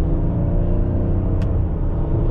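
A 2021 Ford Explorer ST with a bi-turbo V6 pulling under load, heard as a steady, loud, low engine drone and rumble from inside the cabin.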